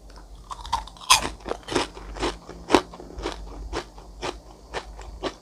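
Crispy fried chicken skin dipped in barbecue seasoning is bitten and chewed close to the microphone, giving a sharp initial crunch followed by a rapid series of crackly chewing crunches with no talk.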